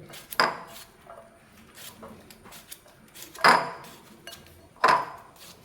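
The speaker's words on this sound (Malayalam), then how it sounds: "കക്കിരിക്ക കുറച്ച് അരിഞ്ഞിട്ട്" A knife chopping cucumber on a cutting board, with three sharp knocks at irregular intervals and some softer kitchen clatter between them.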